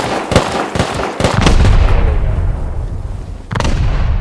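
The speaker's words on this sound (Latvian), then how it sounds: "Pēc kam tur šāva?" Gunfire in the video game Rust: a rapid string of loud, close shots followed by a heavy rumbling blast, with another burst near the end.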